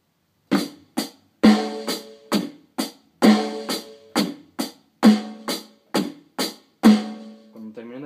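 A drum kit plays a sparse beat of hi-hat, bass drum and snare hits, the pattern repeated twice, with clean sharp strikes, short decays and even spacing, close and alone without talking.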